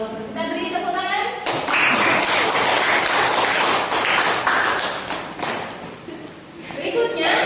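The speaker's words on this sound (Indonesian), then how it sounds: "Kita beri tepuk tangan." Classroom applause in a school lesson, a burst of many hands clapping that swells and fades over several seconds, with voices talking underneath.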